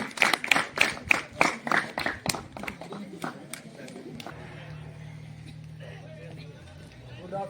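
Audience applause at a school National Voters Day event, a burst of rhythmic claps for about four seconds that fades into low room murmur and a steady hum.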